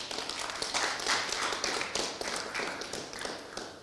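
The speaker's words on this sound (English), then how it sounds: "Let's give him a round of applause too." Audience at a workshop panel session breaking into applause, a dense run of many hands clapping at moderate distance for several seconds, irregular and steady without voices over it.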